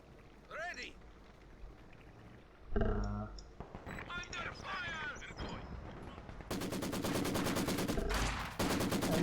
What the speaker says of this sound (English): Oh, these machine gunners are getting the job done, aren't they?